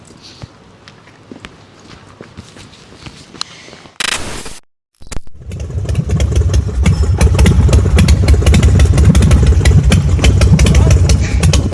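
A Harley-Davidson Sportster bobber custom motorcycle starts up after quiet footsteps and handling noises, then a loud, steady rumbling idle fills the rest of the clip close by.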